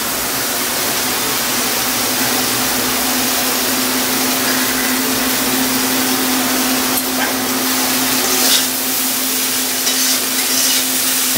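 Pumpkin greens tossed into hot oil in a home kitchen pan, giving a loud, steady hiss and sizzle that fills the whole stretch, with a faint low hum underneath and occasional stirring scrapes.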